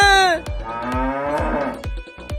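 A cow gives a loud, close, drawn-out moo lasting about two seconds, with sharp knocks and clatter around it and no talking.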